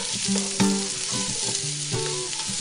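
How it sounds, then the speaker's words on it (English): Oil sizzles steadily in a Dutch oven as food is sautéed and stirred, a continuous bright frying hiss with scattered spatters and occasional utensil scrapes, close and alone without voices. "Sauté and keep everything moving until it browns."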